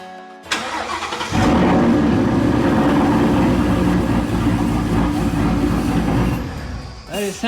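A wrecked 2017 Ford Mustang GT engine runs rough and lumpy on a stock tune, loud and close, rumbling steadily for several seconds after a brief lead-in, with no talking.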